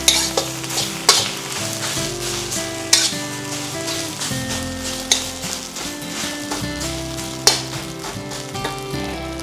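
Fried rice being stir-fried in a pan: steady loud sizzling with repeated scraping and clanking of the spatula against the pan, a few sharp knocks standing out, with no talking.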